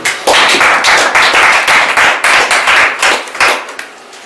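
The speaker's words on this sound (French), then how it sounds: "Applaudissons encore plus." Dense, continuous clapping from an audience at a French-language religious discussion gathering, loud and close, sustained for several seconds before tapering off at the end.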